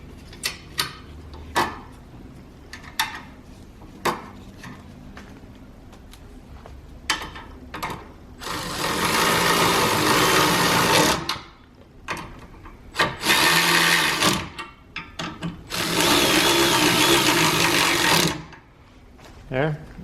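Forward collision sensor bolts on a Nissan Rogue Sport being tightened with a whirring, buzzing driver in several sustained bursts, close and loud, broken up by scattered clicks and handling noises, with some talking in between.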